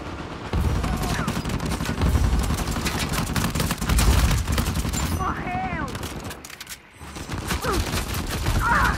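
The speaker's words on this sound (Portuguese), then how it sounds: "Vai atirar!" Rapid bursts of gunfire in a multiplayer shooter video game, continuous and loud throughout, with excited voices talking over the shooting and a brief lull near the end before the firing resumes.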